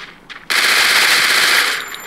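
Rapid machine gun fire rings out in the Free Fire Max mobile battle royale game, a short sustained burst of close, loud automatic shots after a brief quiet lead-in.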